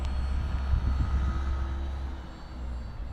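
An E-Flite Valiant electric RC airplane flies at about 90% throttle in stormy weather, its motor a steady, moderately loud drone that eases slightly toward the end, with wind rumble underneath.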